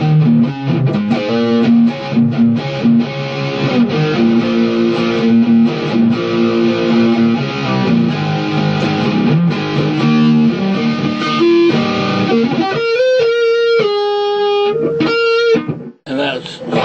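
Electric guitar played through an EVH 5150 III amp head, dry with no reverb, driven with heavy high-gain distortion: chugging riffs and sustained chords, then sparse ringing single notes with gaps near the end, loud and close.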